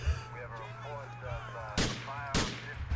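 Gunfire in GTA IV comes as two sharp, loud shots spaced apart over a low engine hum, with a voice talking and exclaiming in the quieter stretches before and between them.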